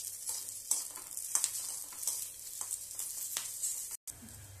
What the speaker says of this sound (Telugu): ఇవి పచ్చిమిర్చి వేగిపోయాయండి.